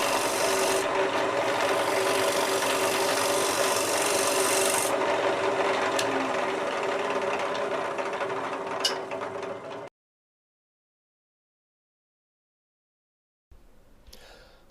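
A shear scraper shaves fine curls from a wood surface, giving a steady close-up rasping scrape that runs continuously for about ten seconds. Silence follows, and then a brief burst of scraping returns at the end.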